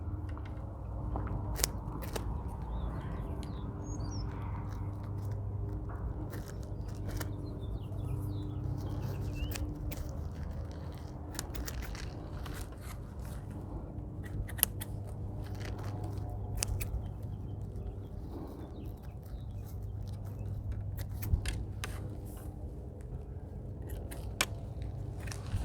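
Holes are cut into a plastic 5-gallon bucket for planting pole beans: sporadic faint crunching and snipping over a steady low outdoor hum, with no voices.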